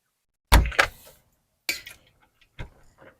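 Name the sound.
closing a door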